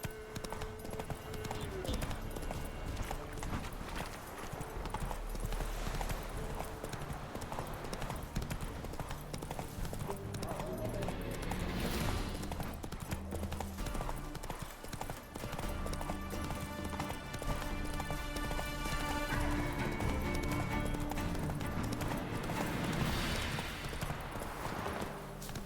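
Galloping horse hooves in The Witcher 3 video game, a rapid, continuous clatter of hoofbeats over dense game music and ambience, with voices talking at points.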